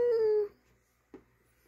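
A dog whimpers while being tickled: one drawn-out, high whining cry up close, then a brief soft yip after a pause, with no talking.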